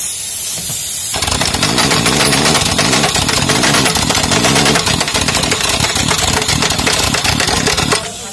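A pneumatic air impact wrench fires in a loud, rapid, continuous hammering rattle for several seconds while tightening tyre bolts, starting abruptly after a quiet moment and stopping just before the end.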